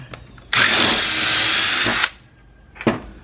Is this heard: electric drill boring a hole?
yes